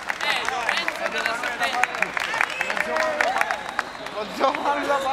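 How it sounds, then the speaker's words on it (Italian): An audience claps and cheers for a street dance crew in Turin, with scattered sharp claps and crowd murmur spread through the whole stretch while someone talks over it. "Un forte applauso."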